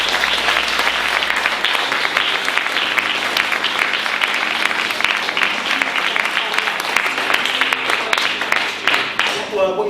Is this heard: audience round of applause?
yes